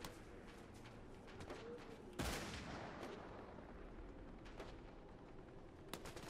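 Gunfire in Fortnite, with scattered distant shots and one loud, close blast in the middle, over a steady background of game noise.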